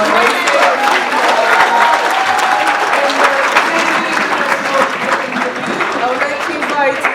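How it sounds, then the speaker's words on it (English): Sustained, loud audience applause at an International Women's Day event, dense clapping from a large crowd with faint voices mixed in, steady throughout. "Please give another round of applause to Mr."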